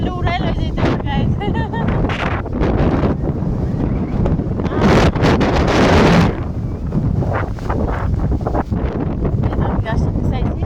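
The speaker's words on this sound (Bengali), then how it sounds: "বাতাসটা আমার মোবাইলটা উড়াই লয়ে যেতে" Strong wind gusting outdoors beneath a kadam tree, loud buffeting rumble against the microphone with bursts of heavier gusts, while a person talks over it.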